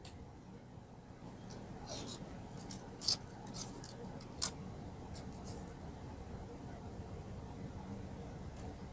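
Scissors snip through a hand-painted ornament figure in a few faint, scattered cuts over a soft, quiet room background.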